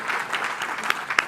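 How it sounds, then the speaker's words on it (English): Short burst of audience clapping at a trade talk on South Africa and Nigeria, a handful of brisk claps with two sharper accents near the end. "You can clap."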